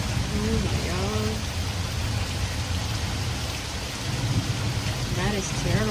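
Steady rain pouring down during a thunderstorm, a continuous loud wash of noise with a low rumble underneath and voices talking over it.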